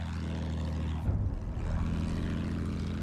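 Propeller airplane flying in the video game Battlefield 1 on the Monte Grappa map, a steady droning engine roar with a brief surge partway through, no talk.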